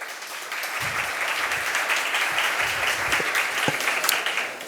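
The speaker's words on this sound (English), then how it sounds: "Can we give them applause?" A seated audience at a philanthropy forum gives sustained, even applause, fairly loud and continuous, with a few low thumps beneath the clapping.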